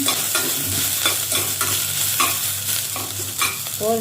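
Village-style tomato rice base sautéing in a pan, with a steady sizzle and repeated scraping stirs throughout, close and fairly loud with no voices.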